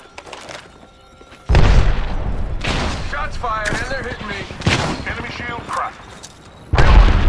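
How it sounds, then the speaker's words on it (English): Gunfire in Apex Legends, sharp loud shots and bursts hitting amid combat, mixed with talking voices during a firefight. "Shots fired, and they're hitting me."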